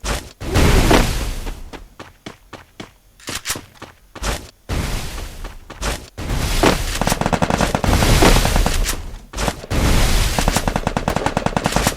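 Gunfire in the mobile battle game Free Fire: loud, close automatic bursts and sharp single shots come in rapid clusters separated by brief pauses.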